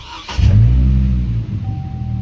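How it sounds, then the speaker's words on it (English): A Chevy Colorado truck with a Passlock security fault cranks briefly and catches, its engine firing into a loud, close rumble that settles into a steady idle. "The truck fired up on the 3rd try"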